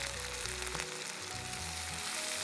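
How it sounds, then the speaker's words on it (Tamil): Onions and tomatoes sauté in a pan on the stove, giving a steady close sizzle and crackle of frying with a low hum beneath it and nobody talking. "நல்லா வதக்கிக்கோங்க."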